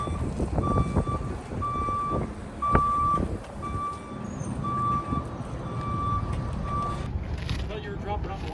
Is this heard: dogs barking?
no